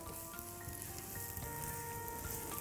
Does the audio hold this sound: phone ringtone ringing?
no